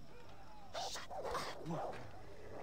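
Dogs in the video game Far Cry 3 give short, muffled barks and yips in a few bursts, set fairly far back beneath the game's background noise.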